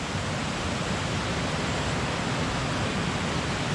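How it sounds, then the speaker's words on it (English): A loud waterfall roars as a steady, dense wash of noise across the whole clip, close by and unbroken, with no voices. "Next to another really loud waterfall."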